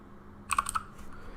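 A computer keyboard is typed on in a short, quick burst of four or five clicks, close to the listener, before a faint hum and softer tapping trail off.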